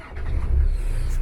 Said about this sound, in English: So you get in the car and you turn on the engine